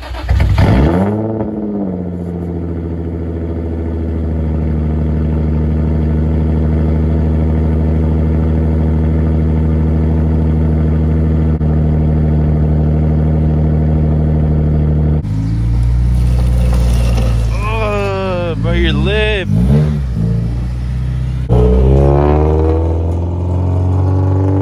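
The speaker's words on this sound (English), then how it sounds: "If I do a cold start real quick on the Z" A Nissan Z cold-starting: a loud close crank and catch, then a steady, droning high idle, with a later blip and settling revs near the end.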